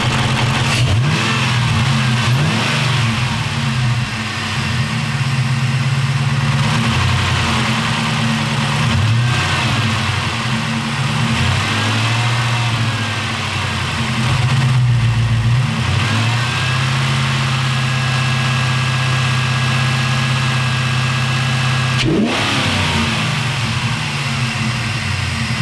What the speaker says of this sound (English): Oh yeah, it definitely, the motor is definitely a lot smoother.